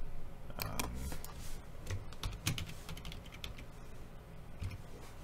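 Quiet keyboard typing as a device name is entered on a settings screen for a WeCreat MakeIt! machine, a run of soft close clicks at an uneven pace.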